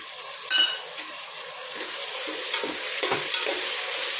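Cauliflower and mixed vegetables for pulao fry in a pan with constant close sizzling, punctuated by a clanging scrape early on and repeated soft stirring strokes.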